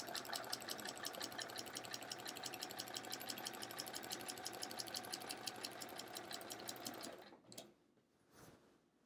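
A sewing machine stitches long quilting lines through an hourglass block quilt with metallic thread, running in a steady, rapid mechanical rhythm up close for about seven seconds before stopping, followed by a few faint handling sounds.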